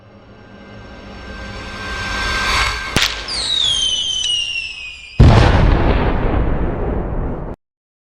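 A signal flare firework goes off in a Chinese martial-arts drama scene: several rising whistles streak upward, then a loud, close burst erupts with a crackling, roaring tail that cuts off abruptly.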